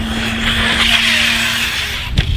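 An HPI Vorza S RC truggy running on 6S batteries through grass on a windy day, a loud close high-pitched electric motor whine over wind rumble, ending in a sharp knock.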